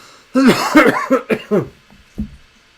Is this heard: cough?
yes